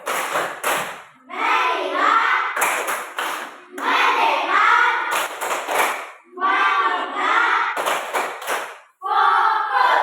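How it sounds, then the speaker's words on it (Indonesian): A school class performs the 'tepuk fokus' focus clapping routine, loud bursts of rhythmic group clapping and chanted voices in repeated blocks separated by brief pauses. "Tepuk fokus."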